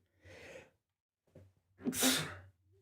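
A quiet inhale builds into one loud, close sneeze, followed by silence.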